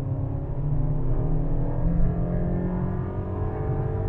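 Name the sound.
Mercedes-Benz GLB accelerating at full throttle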